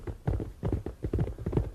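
A ridden horse's hooves clip-clop in a steady, even walking rhythm, close and clear with no talking over it.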